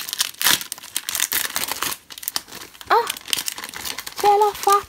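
A mail package opened by hand, loud close crinkling and tearing of plastic wrapper in bursts, with a voice speaking briefly near the end.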